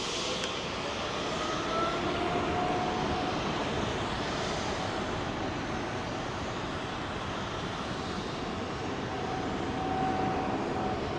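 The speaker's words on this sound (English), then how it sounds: "MNG A330 200 freighter" MNG Airlines Airbus A330-200 freighter at Heathrow, its engines a steady broadband roar at moderate distance with faint shifting whine tones, fairly even throughout and free of speech.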